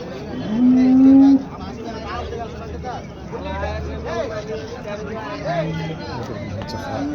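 A cow gives a short loud moo amid a bustling crowd of chattering voices at a cattle market in Erode, with another faint low call later in the busy outdoor din.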